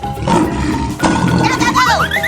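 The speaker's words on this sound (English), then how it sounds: "Lion." A lion roars in a rough, rumbling way over a busy musical backing, with a whooshing sweep and rising tones near the end.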